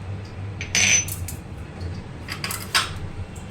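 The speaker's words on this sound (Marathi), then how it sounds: "आता ह्याला आपण याच्यावर चीज स्प्रेड करूया." Knife spreading cheese spread over a crispy street-style toast sandwich: light metallic clinks and scraping taps against a plate, a few sharp close strikes between quieter scrapes, no talk.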